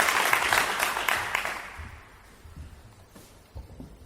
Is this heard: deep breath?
no